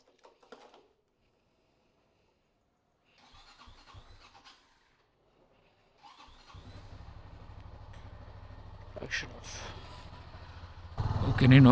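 A Honda CB300F motorcycle comes to life after faint clicks and a brief attempt, then settles into a steady mid-pitched idle before being revved louder at the end.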